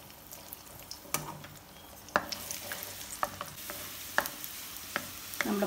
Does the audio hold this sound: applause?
no